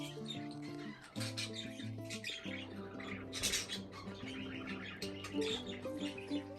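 Two budgies in a large cleaned bird cage chirp and squawk almost nonstop, their chatter layered over a steady low tonal hum in the room.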